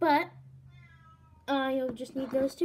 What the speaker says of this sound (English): If you hear my cat, she's crying through the door.